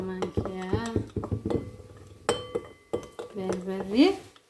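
A metal spoon clinks and taps against a pot as berbere is stirred into butter for chechebsa. The clinks are close and irregular, with a few sharp hits mixed in among a person talking.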